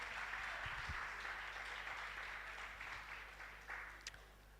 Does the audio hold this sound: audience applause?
yes